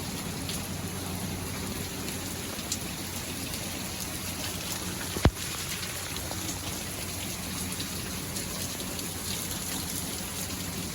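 Heavy rain pours steadily over a flooded yard, a dense continuous hiss of drops with trickling water underneath and one sharp thump midway, with no voices.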